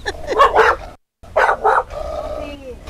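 A dog barks and yips nearby in a few short bursts, with a brief gap, followed by whining tones.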